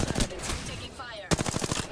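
Rapid machine-gun fire in a video game, two close bursts of sharp repeated shots separated by a brief pause, loud and crisp.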